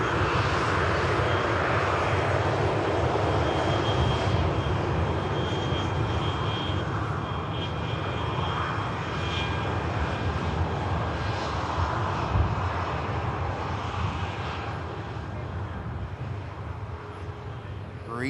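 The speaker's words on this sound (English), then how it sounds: "Followed by another Dreamliner in from Mahon, 787-8 of TUI." A TUI Boeing 787-8 Dreamliner arriving from Mahon roars through its landing, a broad, sustained engine rumble with wind buffeting that slowly eases, with commentary heard alongside it.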